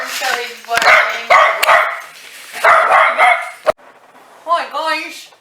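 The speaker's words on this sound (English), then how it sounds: "Here, the door open so he's barking." A dog barks near an open doorway in a home kitchen where chocolate candies are being made, sharp repeated barks in loud bursts with short gaps, then a few softer yelps toward the end.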